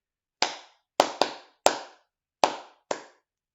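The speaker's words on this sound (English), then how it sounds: "So 6 claps altogether." Six crisp, close hand claps in an uneven pattern, with two quick pairs among single claps, played as a counting game for children, ringing out alone against silence.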